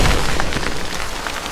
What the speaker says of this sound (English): 7 days later, the rain began.